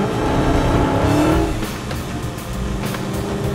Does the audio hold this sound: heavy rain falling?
no